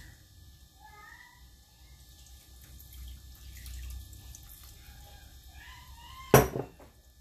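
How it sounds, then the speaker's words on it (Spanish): Water is added to chocolate cake batter in a quiet kitchen: a single short, fairly loud splash near the end, following several seconds of low background hush. "Y añadimos el agua."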